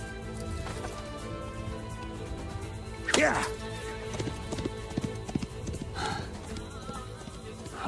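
Horse hooves clip-clopping in a historical drama about the 1243 Battle of Kösedağ between Seljuks and Mongols, steady rhythmic hoofbeats with a sharp louder hit midway, under ongoing dialogue and music.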